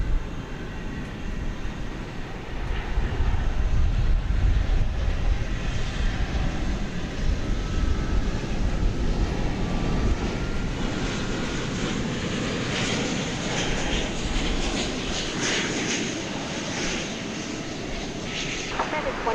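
A Boeing 777-200 wide-body airliner arriving from Dublin at DFW Airport at night, its steady jet engine roar holding loud throughout while a voice talks over it.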